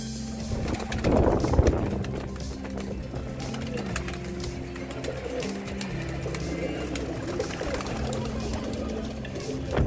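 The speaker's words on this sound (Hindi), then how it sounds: "अभी जो है अपने सभी के सभी कबूतरों को बाहर निकालता हूँ" Pigeons being released from their coop coo and flutter, with a denser burst of wingbeats early on, while a voice calls to them and steady low hum and background noise run throughout.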